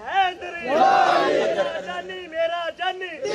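A crowd at a religious gathering chants Allahu Akbar and other religious slogans in loud, rhythmic unison, one swelling call followed by shorter repeated shouts.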